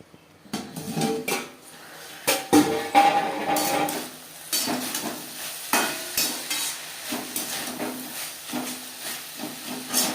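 Long beans and bottle gourd peel are stirred and fried in a pan, with irregular scraping and clattering strokes over a hissing sizzle, close and continuous.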